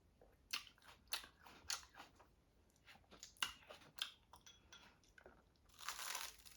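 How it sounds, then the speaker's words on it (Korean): A fresh tomato being bitten and chewed close to the mic, giving a run of soft crunchy, wet bites at an uneven pace, then a short burst of rustling at the end. "자, 토마토를 하나 먹어볼게요"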